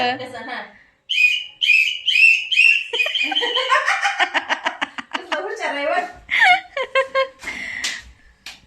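A run of short, sharp whistle blasts in quick succession, followed by voices chattering and giggling close by.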